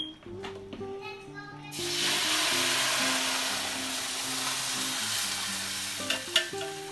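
Mole chili paste hits warm oil for an authentic Mexican mole and bursts into a loud, steady sizzle that holds for several seconds, with a few stirring clatters and a faint melodic tone over it.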